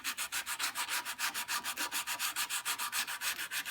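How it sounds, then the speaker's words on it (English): Steady back-and-forth sanding strokes on wood for a tenor guitar build, close and evenly rhythmic, about five rasping passes per second, with no talk. "So I'll just sand it to a point that looks pleasing to me and call it good."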